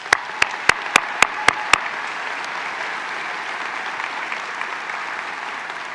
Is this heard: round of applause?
yes